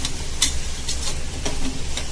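Mixed vegetables and peas sauté in a pan for vegetable rice, giving a steady sizzle with a few scraping stirs of a spoon, close and moderately loud, with no talking.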